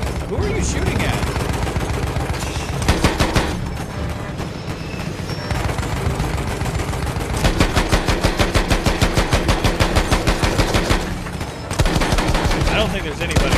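Rapid automatic gunfire from a vehicle-mounted weapon in the World War I shooter Battlefield 1, loud, sustained bursts with brief pauses over constant battle noise.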